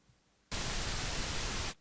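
Tape noise from a tape-emulation plugin played like a MIDI instrument: a sudden burst of steady, dense hiss that holds evenly for over a second and then cuts off, loud and alone.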